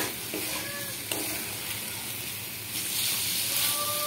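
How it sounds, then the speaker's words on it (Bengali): Chicken frying in oil in a pan, the meat already well browned and releasing its fat: a soft, steady sizzle and hiss with occasional stirring, close by and fairly quiet, with no talk. "চিকেনটা পুরো ভাজা হয়ে গেছে, গায়ের থেকে তেল ছাড়তে শুরু করেছে"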